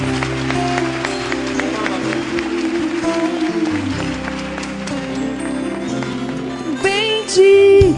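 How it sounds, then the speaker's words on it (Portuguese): A Catholic church congregation applauds during Mass, a steady wash of clapping held throughout under music, with a voice rising near the end. "Aplaudamos a palavra de Deus."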